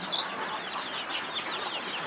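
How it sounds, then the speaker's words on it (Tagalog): Free-ranging domestic chickens in a rainy yard clucking softly and steadily over a constant wash of rain, with a few brief sharper bird calls standing out near the start. "Itong mga manok namin, mga kasama oh, mga alaga namin dito"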